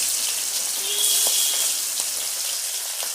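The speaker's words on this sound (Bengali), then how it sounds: "তেল গরম হয়েছে মাছ ছেড়ে দিলাম" Pangas fish frying in hot mustard oil in a wok, a dense steady sizzling hiss with faint crackles, close and continuous for a few seconds without talk.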